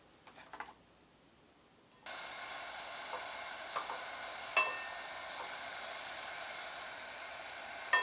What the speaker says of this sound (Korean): 먼저 냄비에 우삼겹을 넣고 노릇하게 볶아줄게요.